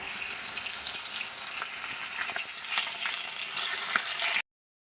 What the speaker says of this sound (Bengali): এটা এবার তেলে আমি ভেজে নেব